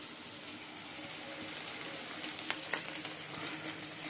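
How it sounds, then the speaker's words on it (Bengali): Chicken pieces frying in a pan, giving a steady, fairly quiet crackling sizzle with scattered sharper pops and no talk. "আর দিয়ে চিকেনের জন্য চিকেনগুলো ভেজে নিচ্ছি"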